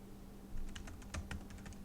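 Soft, fairly slow keystrokes tapping on a computer keyboard, about a dozen clicks close by with faint hum.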